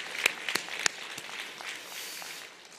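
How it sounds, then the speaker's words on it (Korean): A church congregation gives a short round of thankful applause. A few sharp, distinct claps stand out at the start, then the clapping thins into a soft, scattered patter. "우리 감사의 박수를 한번 하겠습니다."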